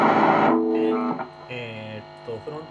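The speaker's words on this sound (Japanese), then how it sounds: "今リバーブを切ったらこんな音が、" A dry, clean electric guitar with PAF-style Rugir pickups and reverb switched off plays a few sustained notes and short plucked phrases, each ringing out and fading with a faint electrical hum behind.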